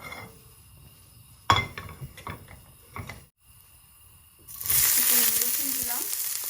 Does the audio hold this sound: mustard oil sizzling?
yes